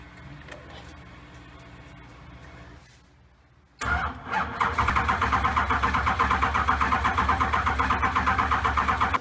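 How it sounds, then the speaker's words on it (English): An LQ9 V8 swapped into a Mazda Miata cranks over on the starter. A brief quieter stretch comes first, then a loud, steady, rhythmic cranking drone that holds to the end, close by with no talk. "Trying to crank this thing, and we were just turning it over here to see what kind of oil pressure it would have"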